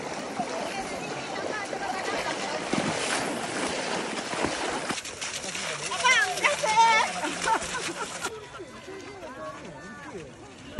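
A raft used to carry motorbikes moves across a river near Kampung Gusai, with water splashing and washing against it in a steady churn while people talk over it throughout.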